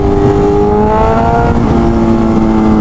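A BMW S1000RR sport bike with a Stage 2 ECU flash roars at high revs, a loud, close and steady engine drone that climbs slightly as it accelerates, with no talking.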